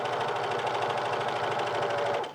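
A sewing machine stitches a folded T-shirt collar, giving a fast, even mechanical whirr that runs steadily at close range for a couple of seconds before it stops abruptly, with no talking.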